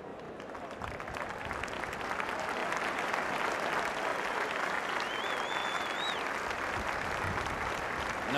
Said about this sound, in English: Nice gesture by the fans here in Lincoln. Applauding him.